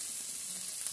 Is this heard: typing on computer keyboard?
no